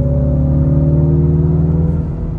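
MINI four-cylinder B48 engine in sport mode with artificial engine sound enhancement, a steady loud droning hum with a low rumble, held at an even pitch throughout.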